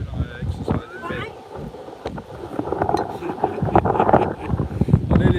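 Wind buffeting a microphone outdoors on a walk in Thailand, a rough, gusty low rumble that swells and surges throughout, loud and uneven, with faint voices partly buried beneath it.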